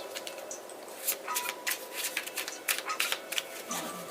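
Tarot cards being shuffled by hand, quick papery riffles and flicks in close, uneven bursts with brief pauses between them, no voices.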